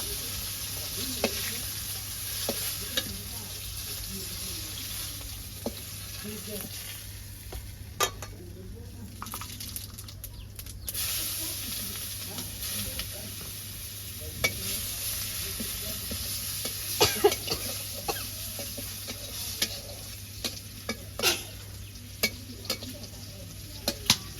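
Curry being stirred and fried in a pan, with a steady sizzle beneath repeated scraping and stirring clicks, close and continuous throughout.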